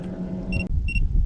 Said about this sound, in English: You guys can probably hear my fish finder going off constantly.